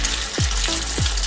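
A salmon croquette dropped into hot oil for deep frying, sending up a steady loud sizzle with two quick bubbling bursts as it hits the oil.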